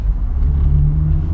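A car driving along the road, giving a steady low engine rumble and road drone from inside the cabin, loud and continuous for a short moment with no speech.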